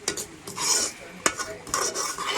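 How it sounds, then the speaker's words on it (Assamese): Semolina (suji) frying in a pan as a metal spoon stirs and scrapes it, with repeated gritty scraping strokes, a few sharp clinks against the pan, and a soft sizzle underneath, close and unaccompanied by speech. "ৰাতিপুৱা চুজি ভাজি আছোঁ।"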